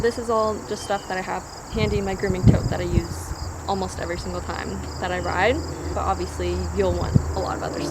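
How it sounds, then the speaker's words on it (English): Crickets chirp steadily outdoors at a stable, low level behind someone talking close by about horse grooming gear. "I know I can hear like crickets and stuff out there."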